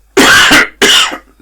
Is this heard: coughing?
yes